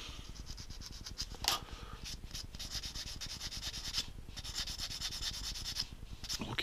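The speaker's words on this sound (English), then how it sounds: "Come in with your sanding stick again." Steady scratchy rubbing of a sanding stick on a small plastic part of a 1:72 scale Bandai TIE Striker model kit, continuous back-and-forth strokes close up, with a faint fan hum behind.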